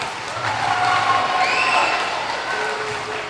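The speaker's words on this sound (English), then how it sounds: "Let's give them all a round of applause" Audience clapping for young contest winners at an elementary school Black History Month event, a moderate burst that swells and then tapers, with voices talking over it.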